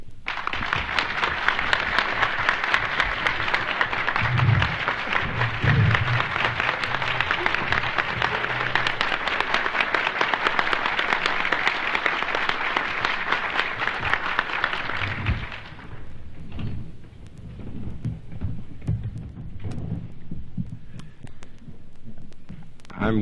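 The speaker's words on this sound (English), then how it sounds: "Thank you for your applause." An audience applauds a guest speaker, Dr. William Holmes Borders, with sustained, dense clapping from many hands that fills the room for about fifteen seconds and then cuts off, leaving a quiet hall with faint low thumps.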